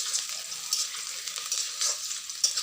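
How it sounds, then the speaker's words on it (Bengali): Onions frying in oil left over from frying fish, a bright crackling sizzle with bursts of stirring, fairly close and continuous, no talk. "পেঁয়াজটাও ভাজা হয়ে গেছে"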